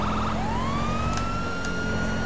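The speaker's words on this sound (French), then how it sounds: "Donc, vous avez plusieurs sirènes," A police siren in GTA V with the LSPDFR mod switches from a fast yelp to a rising, steady wail, loud and continuous over a constant engine-like hum, with no talk.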